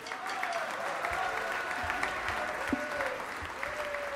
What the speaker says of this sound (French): Je demanderais de les applaudir, s'il vous plaît.